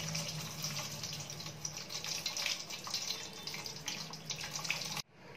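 Hot water poured steadily over a gas regulator pipe and tube, a continuous close splashing stream that runs alone for about five seconds and then cuts off abruptly.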